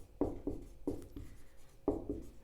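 Chalk or pen writing on a board during a Hindi grammar lesson, heard as several sharp, close taps and strokes in quick bursts.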